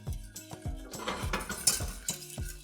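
Butter cubes being whisked a few at a time into a sauce for Texas striped bass, the whisk clinking rhythmically against a pan in steady repeated strokes, close and moderately loud.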